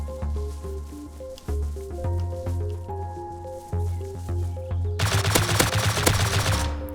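Gunfire in the survival video game Rust, a rapid burst of shots rattling out over steady in-game music and ambient sound, loud and close near the end.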